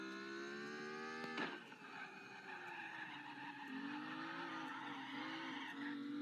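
A drift car in the video game CarX Drift Racing skids with a sustained tire squeal over a droning engine note that rises and falls through the slide, loud and continuous with no talking.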